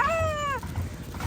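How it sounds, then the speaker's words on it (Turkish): A single short cat meow, clear and close, fading into quiet background noise. "Burada da Zeynep'in kedileri."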